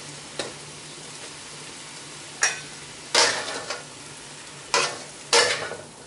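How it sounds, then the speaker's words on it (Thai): Instant noodles stir-fried with tongs in a pan: a low, steady sizzle broken by a few sharp, bright scraping and clattering bursts as the noodles are tossed, close and loud, with no talk. "ปู่จะชอบผัดให้เกลี่ยนิดนึงนะคะ"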